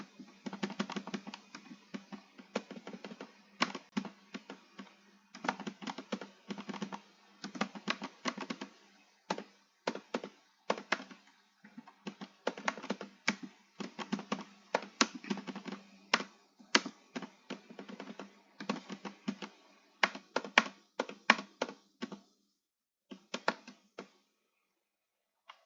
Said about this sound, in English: if you guys don't like my loud keyboard,